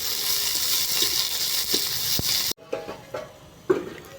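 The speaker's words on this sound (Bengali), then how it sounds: "পেঁয়াজ ভাজা হয়ে গেছে" Onions frying in a pan with dry red chillies, green chillies, garlic and kalonji, a steady close sizzle that cuts out midway, then returns as quieter, intermittent crackles and stirring scrapes.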